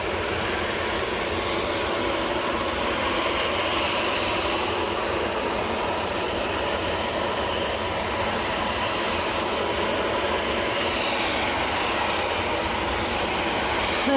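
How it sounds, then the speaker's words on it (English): An Etihad jet airliner in special livery taxis at Manchester airport, with a steady loud engine roar and whine that stays even throughout without pause. "There's the Etihad, it's taxiing out."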